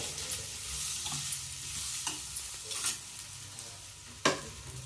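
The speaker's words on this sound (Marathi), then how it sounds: "ह्याच्यातच तांदूळ 5 मिनिटं चांगलं भाजून" Rice roasted in a little oil in a pot, a soft continuous sizzle broken by repeated spoon scrapes and clinks, with one sharp metallic knock near the end; no talk.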